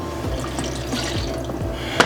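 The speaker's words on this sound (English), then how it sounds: "so what I'll do is I'll just add more water." Water trickles and splashes from a tap into a pot of thick beef pie filling, a steady close pour with faint drips and no talking.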